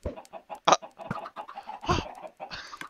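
Chickens in the Minecraft modpack Vintage Craft cluck in a busy run of short, overlapping calls, close and fairly loud with no talking over them.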